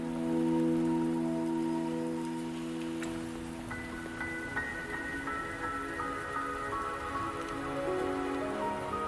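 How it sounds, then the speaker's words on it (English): Rain pours in a video game, a dense steady patter of drops hitting surfaces, with soft musical tones rising and sustaining over it and no speech. "Don't worry, the rain won't last much longer."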